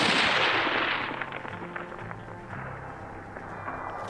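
A Remington 700 in .223 firing 75-grain rounds at a target about 1,000 yards away: one loud, sharp report at the start that decays into a long rolling echo and fades over several seconds.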